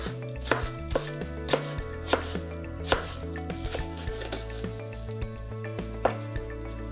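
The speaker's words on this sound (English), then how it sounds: "So today we're going to cut up the cucumber, and for salsa you want to make sure the cucumber is very fine." Cucumber being chopped finely with a knife on a board for salsa, with sharp, evenly spaced cuts close by, roughly two per second, over a steady background of music.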